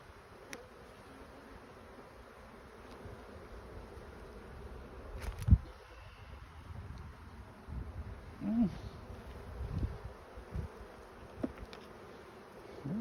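Honey bees at an opened hive give off a steady, faint buzzing drone, with occasional soft knocks and handling noises nearby.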